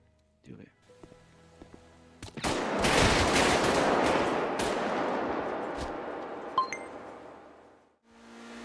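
A loud, sustained burst of gunfire erupts after a brief quiet moment, a dense volley of shots blending into a roaring fusillade that fades near the end, with a few metallic clinks mixed in during a sheriff showdown.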